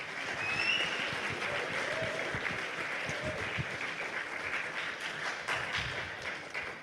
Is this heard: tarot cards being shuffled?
no